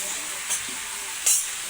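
Vegetables frying in a pan before Malabar spinach is added for a pui shak curry. A steady close sizzling hiss is broken by two brief, louder bursts as the food is stirred.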